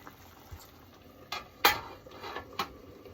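A lid set back onto a cooking pot of salciadong isda, giving a few light metallic clinks and one sharper clatter, close and fairly quiet against faint kitchen background.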